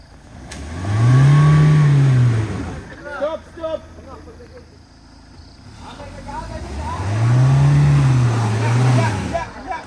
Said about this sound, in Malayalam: അതിൽ ടയർ കിടന്ന് ഇങ്ങനെ കറങ്ങുള്ളൂ. ഇപ്പോൾ ഈ വണ്ടി കയറുന്നില്ല.